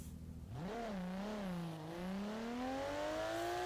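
Nissan Skyline exhaust in Garry's Mod, the engine revving up from idle and climbing through a wavering, rising tone, loud and close throughout with no talking.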